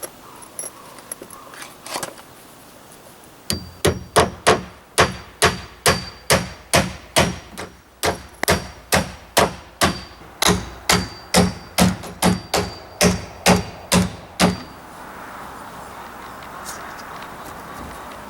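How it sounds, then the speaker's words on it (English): Repeated hammer strikes drive nails into wooden ceiling joists while framing a garden shed greenhouse, about two dozen sharp, loud blows in a steady rhythm after a quiet start, ending with a softer rustle. "while I'm nailing the ceiling joists in"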